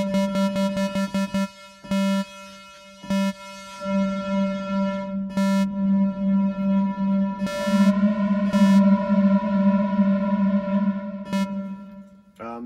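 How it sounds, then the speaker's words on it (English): Bright Sequential Pro 3 Special Edition synthesizer tones ring out in short stabs, then sustain into long, shimmering plate-style reverb tails that wash together and slowly decay. "It's like a super plate reverb they call it."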